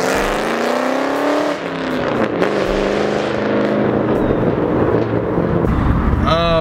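Ford Mustang fitted with a lightweight flywheel accelerating in traffic, the engine droning loud and steady from inside the car with rising tone under partial throttle, and a short whine near the end.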